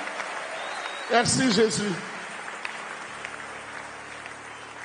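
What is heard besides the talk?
congregation applauding Jesus in church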